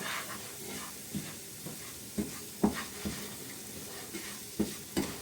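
Soft sizzling of Aleppo-style mamounia semolina in hot animal ghee, with scattered scraping stirring strokes against the pan, close and fairly quiet, no talking.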